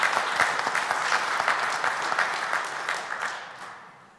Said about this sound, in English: I just wanted to give them another round of applause